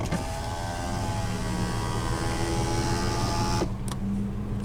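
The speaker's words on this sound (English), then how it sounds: "And now we'll go ahead and roll down the driver's window." The power driver's window of a 1992 GMC Typhoon rolls down with a steady, close electric motor whine that runs for several seconds, then stops with a soft thunk near the end.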